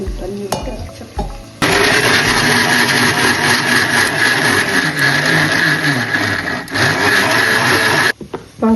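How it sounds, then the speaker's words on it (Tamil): A loud whirring mixer grinder grinds masala steadily for several seconds after a short pause, with clattering in the jar, then cuts off abruptly near the end. "இதெல்லாம் மிக்ஸி ஜாரில் போட்டு அரைச்சிட்டு வந்துடலாம்."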